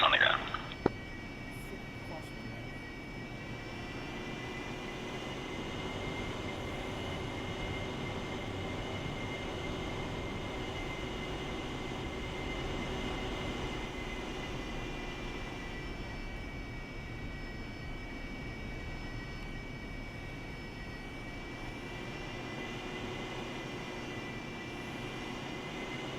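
An F/A-18 Hornet jet in DCS World touches down and rolls along the runway, with a steady, loud engine roar and whine that holds evenly throughout after a brief knock at the start.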